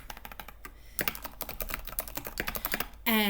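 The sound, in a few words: typing on a computer keyboard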